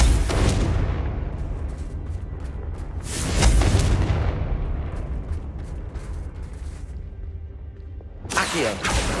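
Confringo blasting spell from the video game Hogwarts Legacy erupting in a loud, rumbling explosion that swells and slowly fades with crackling debris, then a second sharp burst near the end.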